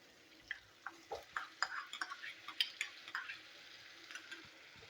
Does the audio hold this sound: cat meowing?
no